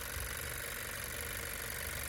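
A 1.5-liter turbocharged four-cylinder gasoline engine with dual overhead cams, 16 valves and VTEC, in a 2018 Honda Accord Touring, idles with a steady low rumble and even hum, close and continuous, with no talking.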